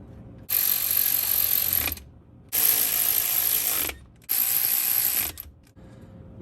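Three long, loud bursts of a ratchet clicking rapidly as it tightens car transmission bolts, each run lasting a second or more and separated by short quiet pauses.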